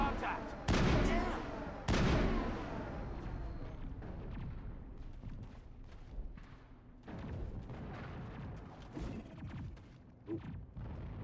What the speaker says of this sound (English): Forgot that that was grenades.